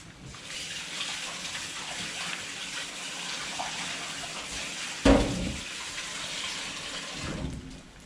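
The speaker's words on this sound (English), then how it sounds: "with your batter you really want to give this a good rinse in the sink" Water runs steadily from a kitchen sink tap as a batter bowl is rinsed, a continuous gushing hiss with a brief louder splash and clunk near the end.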